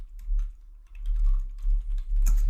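Typing a command on a computer keyboard to install a software tool, a loose run of soft key clicks at close range with a slightly denser burst of taps near the end, no voices.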